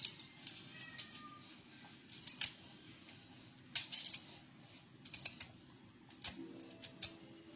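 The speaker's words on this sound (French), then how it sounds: "Je vais finir d'éplucher et puis on se voit après avoir lavé les tubercules" Tubers are peeled by hand for cooking, giving soft, irregular scraping and clicking strokes over a quiet background hum, with a few sharper ticks scattered throughout.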